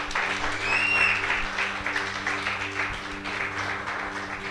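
Steady congregational applause in a church, broad and continuous throughout, filling the room at moderate level, with a faint voice or tone briefly audible above it near the start.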